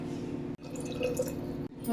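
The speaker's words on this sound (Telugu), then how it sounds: "ఇప్పుడు కప్పు పావు వాటర్ యాడ్ చేసుకోవాలండి" Water is poured into a pot of basmati rice for a plain biryani, making a short, close, bubbling trickle with two brief breaks.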